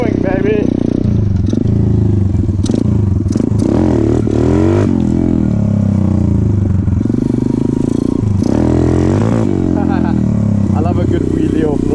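A pit bike engine revs hard while being ridden, loud and close, with the pitch rising and falling through repeated throttle bursts and clattering from the bike, while a rider talks over it.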